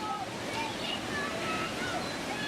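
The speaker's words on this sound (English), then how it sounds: "The raging river splashes you through the powerful currents and you are gonna get wet." Rushing water churns and splashes steadily on the Lost River of the Ozarks rapids ride at Silver Dollar City in Branson, Missouri, a continuous broadband roar with light wind noise and no break.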